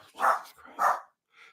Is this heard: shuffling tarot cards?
no